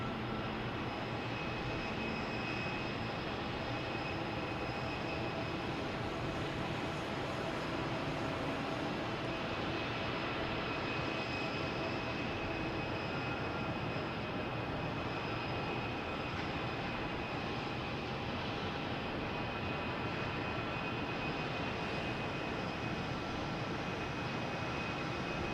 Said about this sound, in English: We have a JetBlue heading to Cleveland,